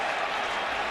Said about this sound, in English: Myers makes contact and gets a nice hand from the crowd here at Citizens Bank Park.